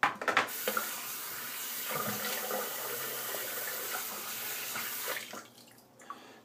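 A tap runs steadily while a disposable razor is rinsed under it, giving a continuous splashing rush, with a clatter at the start and the flow cutting off near the end.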